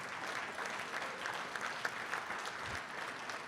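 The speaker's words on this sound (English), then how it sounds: "let him give you a round of applause" An audience applauding steadily at a university hall of fame induction ceremony, a dense even wash of clapping from a large crowd filling the hall, moderately loud with no talk on top.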